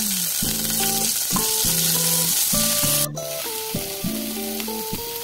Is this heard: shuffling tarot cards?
no